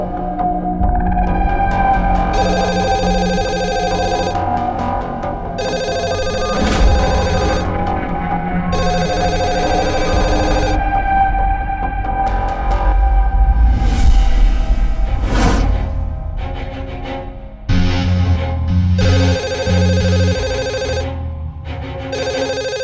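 Telephone ringing, a loud, steady, repeating electronic tone that holds for over twenty seconds, with brief gaps and no talking.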